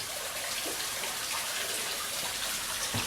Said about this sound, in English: the serenity of the water dropping again.